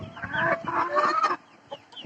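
Native hens and a rooster cluck in a coop in a small room, a dense run of close, overlapping clucks and calls for about a second and a half, then a quieter pause broken by a couple of short clucks.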